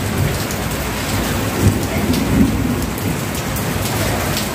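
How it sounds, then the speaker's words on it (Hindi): Heavy rain pours down in a thick, steady hiss, with low thunder rolling softly in the background a couple of times. "बहुत तेज बारिश आई है"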